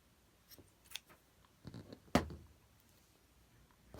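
Scissors snip off the woven-in yarn ends of a hand-knitted bookmark. A few soft, scattered snips lead up to one sharp, crisp cut, heard close and alone in a quiet room.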